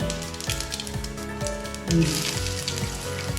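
Mustard seeds, cumin and pepper sizzle in hot oil as a small tempering, a continuous crackling hiss under a layer of music, swelling slightly partway through.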